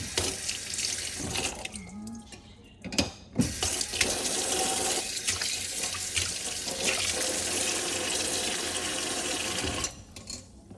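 Vegetables, likely bitter gourd and eggplant, rinsed under a running kitchen tap in a California home, with a steady broadband water stream splashing for most of the clip and brief handling clatter near the start and end.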